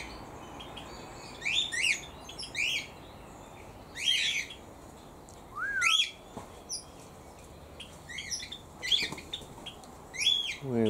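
Teals and other birds in an aviary call in repeated bursts of chirps and squawks, fairly near, spaced every second or two over quiet background.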